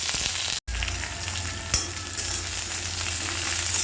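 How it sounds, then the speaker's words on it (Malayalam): Mustard seeds, onion, curry leaves and dried red chillies frying in oil in a wok for poruma: loud, dense sizzle with a brief break and a sharp pop, no talk. "ചീനച്ചട്ടിയിൽ രണ്ട് സ്പൂൺ എണ്ണ ഒഴിച്ച് കടുകിട്ട് കടുക് പൊട്ടി"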